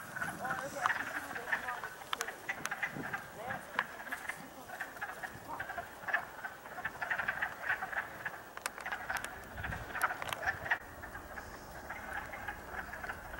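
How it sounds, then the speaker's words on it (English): Wood frogs call at a spring breeding pond in a rocky woodland, a busy chorus of short clucking croaks repeating at close to middle distance, steady and fairly loud, with no talk over it. "Interesting thing about wood frogs, they have the ability to freeze during the winter and still live."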